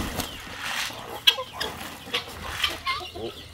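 Farmyard chickens and roosters cluck close by in short, irregular bursts, with sharper clucks standing out over a low background murmur.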